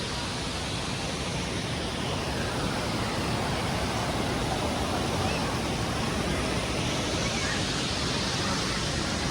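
River water flowing at a bathing place near Badulla town in Sri Lanka, a constant broad rushing wash that stays steady and fairly strong throughout.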